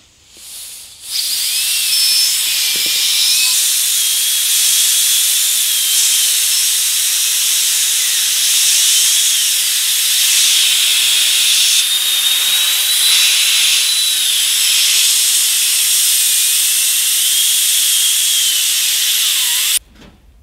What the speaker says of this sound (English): One final sort of air-powered device is a dentist drill.